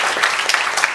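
Brief audience applause at a panel session, a steady patter of clapping hands with no talk over it.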